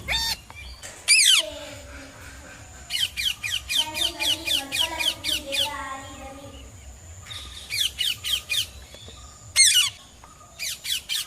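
A child imitates a parrot chick in a school play, with shrill squawks in quick bursts, broken by a stretch of lower wavering calls.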